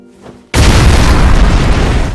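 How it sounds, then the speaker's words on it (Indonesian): A sudden, loud explosion from an anime scene bursts in after a brief quiet moment, a heavy booming roar that sustains for under two seconds. "Ngedenger ledakan itu"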